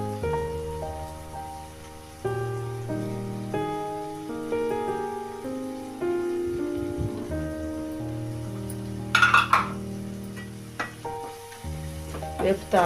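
Prawn masala with chili powder hisses and sizzles in a pan under prominent melodic music, with a brief burst of louder crackling and scraping near the end.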